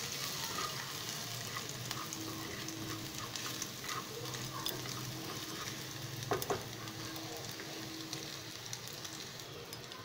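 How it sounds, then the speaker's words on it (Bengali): Crushed garlic frying in a pan over a medium flame, giving a steady, even sizzle throughout with a faint clink near the middle, close up and with no speech. "রসুনটা একটু লাইট গোল্ডেন কালার হবে ততক্ষণ অবধি এটাকে ফ্রাই করব।"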